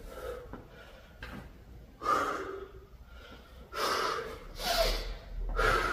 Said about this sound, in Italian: Respiri profondi.